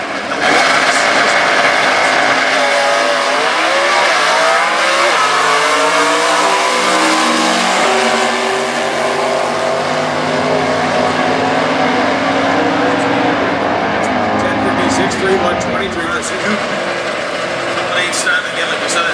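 A 1969 Camaro G-Stock automatic drag car with a 350-inch Chevy engine launches and accelerates hard at a national stock eliminator event, loud sustained engine roar with rising revs and gear changes, a commentator talking over it.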